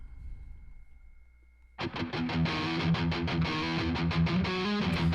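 Squier Telecaster played through the STL Tone Hub PV605 amp preset with gain eased back, a lightly driven pop punk rhythm part: near-silence with a faint hum, then steady strummed chords from about two seconds on, loud and alone.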